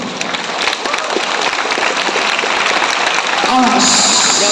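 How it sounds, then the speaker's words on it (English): An audience claps all at once at a show with a trained seal, producing a dense, continuous burst of applause mixed with crowd noise, ending with a short bright tone. "So why don't all of you try clapping to distract Tiago?"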